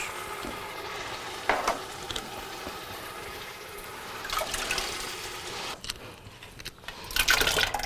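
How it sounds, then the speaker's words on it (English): Plain crushed tomatoes are stirred into a frying pan for an Italian meatball and sausage sauce, with a continuous sizzle, scraping stirs and brief wet splashy bursts. No talking is heard. "and then stir that in. These are plain crushed tomatoes."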